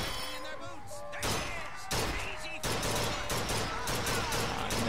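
Repeated gunfire from a favorite weapon in BioShock Infinite, a handful of loud broadband bursts spaced about a second apart over a busy game soundscape with a faint voice underneath.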